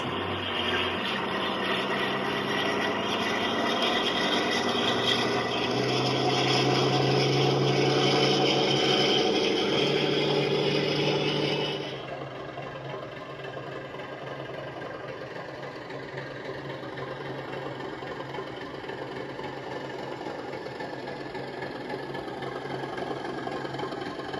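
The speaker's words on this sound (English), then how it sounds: "you can simulate this train taking a heavy load, so it's getting up to revs before it moves off" A model train sound decoder simulating a diesel engine revving under heavy load, a loud, sustained mechanical drone that holds for about twelve seconds and then drops abruptly to a quieter, steady idle hum.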